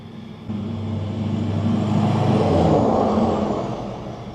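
A loud diesel vehicle engine idles, then swells into a steady, rising roar before easing off slightly, with a deep low hum throughout and no voices.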